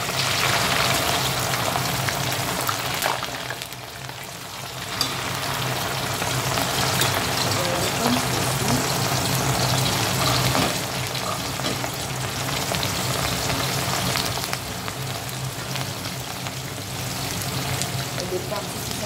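Meatballs sear in a hot pan for a sauce with mushrooms, giving a steady loud sizzle and crackle throughout, with brief dips and stirring scrapes.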